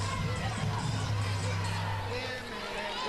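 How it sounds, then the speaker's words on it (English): Crowd noise in a high school basketball gym before a DeSoto versus Duncanville game, a steady dense hubbub of many voices and cheers, with a commentator talking over it. "There you see the DeSoto crowd."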